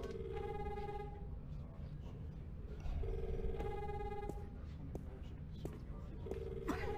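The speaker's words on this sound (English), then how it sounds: "we need to use this phone to call the other phone" A telephone rings in The Longest Journey adventure game, its warbling electronic tone repeating in three even bursts over a steady background murmur.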